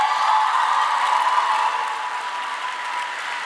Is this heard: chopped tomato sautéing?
no